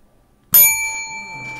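A bell struck once with a sudden bright ring after near silence, then a clear metallic tone decaying slowly over the next second.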